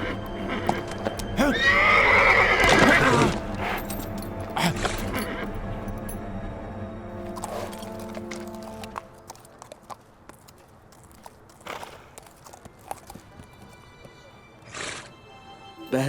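A horse whinnies loudly near the start, followed by snorts and scattered hoof clops that fade into quieter movement.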